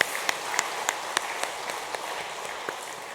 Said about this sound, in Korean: 영광 받으신 하나님께 우리도 같이 영광의 박수